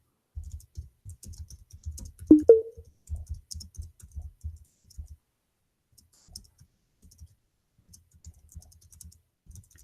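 Typing on a computer keyboard, a steady run of close, crisp key clicks in bursts that pause and resume, with one louder clack partway through and quieter scattered taps toward the end.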